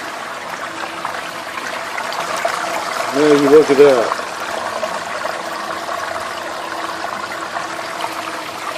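Material and water poured onto a sluice washer mat during a gold cleanup, giving a steady trickling, running-water wash throughout with a brief louder pour near the middle, while someone talks over it.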